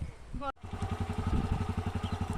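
A motorcycle engine putters at close range while a learner eases out the clutch, a quick rhythmic chugging after a brief dropout, with a voice heard just before.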